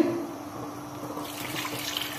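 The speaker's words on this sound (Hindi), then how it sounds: "इसके अंदर हम पानी डालेंगे" Water poured from a vessel into a cooking pot holding jaggery, a brief soft splashing trickle close by with no voices.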